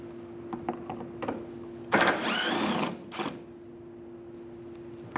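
Power tool whirring as it removes a 10mm bolt on a 2015-2019 Hyundai Sonata near the headlight, a loud, close mechanical buzz lasting about a second, set between scattered small clicks and a faint steady hum.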